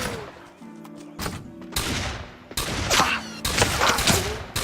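Gunfire in the online game Fallen Earth comes in several loud bursts and volleys of shots separated by short gaps, with a few thuds mixed in and no talk.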